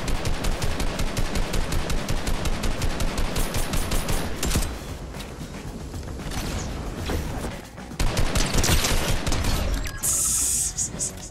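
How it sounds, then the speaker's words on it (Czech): Loud, rapid automatic fire from an M assault rifle in Fortnite rattles in sustained bursts. Brief pauses and clattering game sounds fall between the bursts, with no voices over the shooting. "ta M-ka mi celkem střílí"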